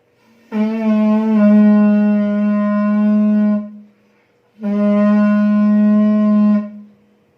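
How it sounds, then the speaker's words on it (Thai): Two long, steady, buzzy blasts on a buffalo horn trumpet sound up close, each lasting a few seconds, separated by a brief pause. "นี่คือเสียงจากการเป่าแตร"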